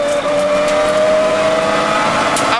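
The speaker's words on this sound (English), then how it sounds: "It's off to a flying start as the 2001 Subaru builds up to over 100 miles an hour." A 2001 Subaru rally car accelerates hard on a wet rally stage, its engine note rising steadily and loud from start to finish, close and continuous with no talk.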